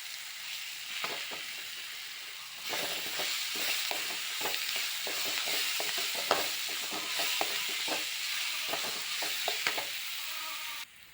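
Prawn masala sizzles in a pan with curry leaves, a steady frying hiss that grows louder partway through, with quick repeated scrapes of a spoon stirring, close up and without talk.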